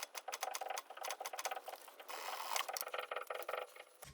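A sewing machine stitches fabric in rapid, even mechanical pattering bursts, briefly pausing and restarting, close and clear with no talking.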